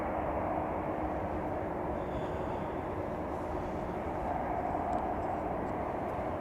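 A jet airliner taxiing on the runway at Chicago O'Hare airport, a steady broadband engine rumble and whine holding at even loudness throughout, fairly distant with no talk over it.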